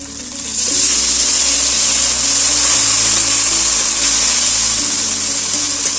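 Ginger paste with turmeric and a splash of water sautés in a pan for a fish curry, producing a loud, constant bright sizzle with a low hum beneath, continuous and close, with no talking.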